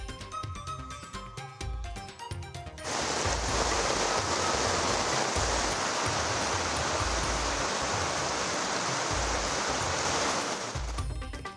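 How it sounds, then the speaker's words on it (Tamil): Heavy rain pours steadily near flooded homes in Nagapattinam, a dense, loud wash of water that starts abruptly after a quieter stretch and runs on unbroken for several seconds before cutting off. "நாகையில் தொடரும் கனமழையால் நாகூர் அருகே குடியிருப்பு பகுதிகளில் மழைநீர் புகுந்தது."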